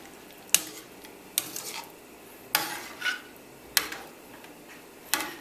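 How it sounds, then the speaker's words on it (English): Spoon stirring red food coloring into a mixture in a bowl, giving five sharp clinks against the dish at roughly one-second intervals, fairly close and with no talking. "Give that a quick stir."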